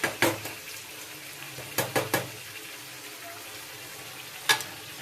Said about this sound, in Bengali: আমি এবার দিয়ে দেবো জল